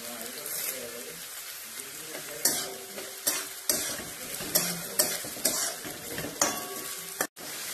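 Onion and curry leaves fry in a pan with a steady sizzle while a utensil stirs them, knocking against the pan in repeated close clacks.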